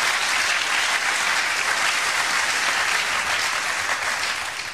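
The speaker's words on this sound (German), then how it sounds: "Das war der Jubel von Wimbledon 2004." Recorded crowd at Wimbledon 2004 tennis bursting into dense, loud applause and cheering, a steady wash of clapping throughout that eases slightly at the end.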